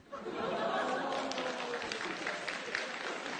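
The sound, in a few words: audience applause at a lecture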